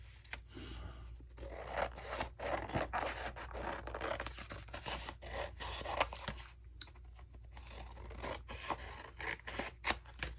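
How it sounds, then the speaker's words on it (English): Scissors snip steadily through old scrapbook paper while small pieces are trimmed off, giving close, dry, papery cuts and rustles that repeat in irregular bursts with no talking. "I'm going to cut these little pieces off right here."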